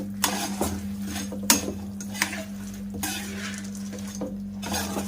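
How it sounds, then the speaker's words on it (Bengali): Boondi dropped and stirred into sugar syrup in a pot for Bengali sweets, with repeated spoon scrapes and clinks against the metal, wet shuffling, and a steady low hum in the background. "আর যে বোঁদেগুলো ছিল, বুন্দিয়াগুলো, সেগুলো দিয়ে দেব চিনি রসের মধ্যে।"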